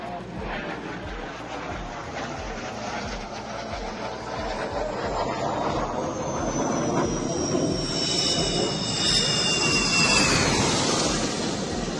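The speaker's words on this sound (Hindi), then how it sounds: "अब आप सड़क के ऊपर जो है हवाई जहाज उतरते और हवाई जहाज को उड़ान भरते हुए" Jaguar and Sukhoi fighter jets landing on and taking off from a highway airstrip in Rajasthan near the Pakistan border: a steady, loud jet roar that swells toward the end, with a rising engine whine.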